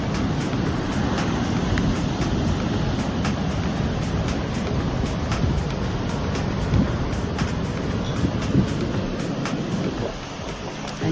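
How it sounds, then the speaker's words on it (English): White-topped waves break and wash steadily along a California beach, forming a continuous loud roar of surf with wind buffeting the microphone throughout. "She's not bothered by white top waves crashing."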